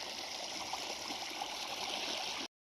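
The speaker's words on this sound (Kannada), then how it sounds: "ಹಂಗಾರೆ ನೋಡಿ ನೀರು ಚಲೋ ಆಗ್ಯದ ನೋಡ್ರಿ, ಹೊಳ್ಳಾಗತ್ತ ನೀರು" Water from a motor-driven irrigation pump gushing steadily into a channel on farmland, a dense continuous rushing flow close by with no voices, cutting off abruptly near the end.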